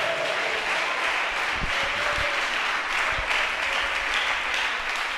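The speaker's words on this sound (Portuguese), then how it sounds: "Pode dar uma salva de palmas para Jesus aí, Senato." A church congregation applauds during a sermon, giving steady, dense clapping that holds at an even level throughout, with a few sharper individual claps standing out.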